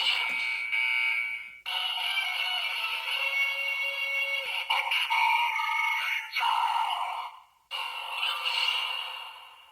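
A Premium Bandai DX Geartozinger toy from Kikai Sentai Zenkaiger plays its Akibaranger gear sound, a loud, bright electronic jingle of sustained tones broken by short pauses, with no talking over it.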